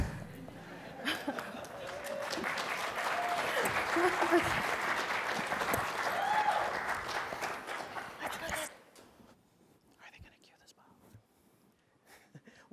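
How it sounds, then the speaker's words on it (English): An audience claps through a standing ovation, dense steady applause building and holding loud for about eight seconds before cutting off, leaving faint murmurs and scattered sounds in a quieter room. "Welcome to our first annual standing ovation. Everybody clap."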